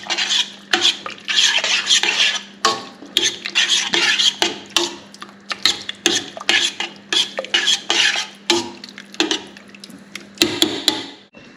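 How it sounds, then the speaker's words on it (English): A spoon stirring tomato puree into a thick spaghetti bolognese sauce in a pot, with a steady run of close, scraping, clattering strokes against the pan and a faint underlying hum, no talking. "That's the tomato puree on top, and now I'm going to stir that in."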